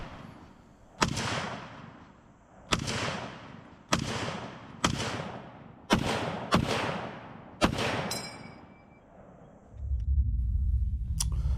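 M1 Garand rifle fire: seven sharp, loud single shots spaced about a second apart, each with a fading echo tail, followed by a low rumbling wash of sound at the end.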